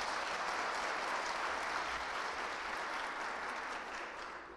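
Women in a hall applaud together in a dense, continuous patter of clapping that holds steady for several seconds and fades slightly at the end.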